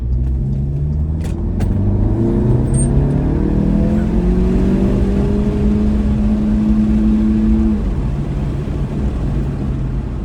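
An Audi S3 with a DQ250 dual-clutch gearbox pulls hard, its engine note climbing steadily and loud for about eight seconds while holding the gear, then settling into a droning steady run.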